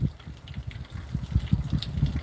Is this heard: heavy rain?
no